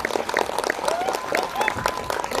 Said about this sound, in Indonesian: berikan tepukan yang meriah untuk kita semua